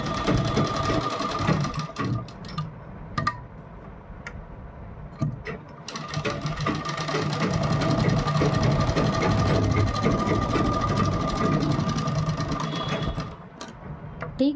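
A sewing machine stitches around the neckline of a kurti with buckram backing, a steady rapid needle clatter with short pauses and restarts, close and fairly loud, with occasional clicks of handling between runs.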